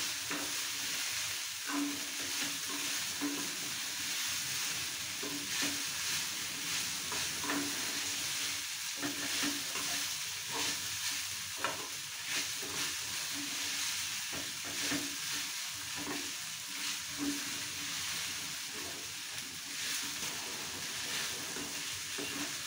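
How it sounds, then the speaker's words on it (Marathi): Sabudana khichdi with a pinch of sugar is stirred in a pan over a very low flame. A soft, even sizzle runs throughout, broken by regular light scrapes and taps of the spoon, with no voices. "आणि व्यवस्थित त्याला हलवून घ्यायचं"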